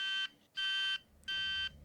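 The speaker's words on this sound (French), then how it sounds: "Mon alarme sonne." An alarm clock sounding loud electronic beeps in the morning, three sustained bursts with short pauses between them, alone and close.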